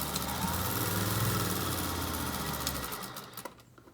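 A sewing machine runs continuously, stitching a batch of fabric masks lined up end to end, with a steady mechanical hum that slows and stops near the end.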